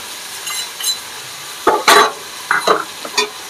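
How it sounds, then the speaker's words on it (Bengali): Spice paste for a tilapia fish curry is stir-fried in a pan, with a soft steady sizzle under several loud close scrapes and clatters of a spoon. "চলো এবার মশলাটা কষিয়ে নিই,"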